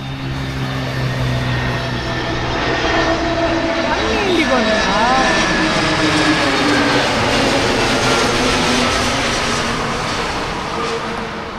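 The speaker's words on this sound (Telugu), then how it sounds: "ఇప్పుడు మీకే ఫ్లైట్ వస్తుంది చూపిస్తాను చూడండి." An airplane arriving at Bangalore international airport roars loudly and continuously, its engine drone and whine rising and falling slightly as it passes at night.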